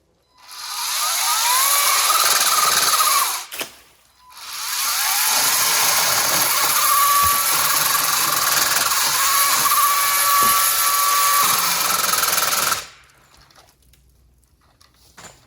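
A Ryobi Expand-IT 10-inch electric pole saw runs with a loud, steady high whine. It cuts out briefly near the start, then runs again for about nine seconds before stopping, leaving quiet handling noise.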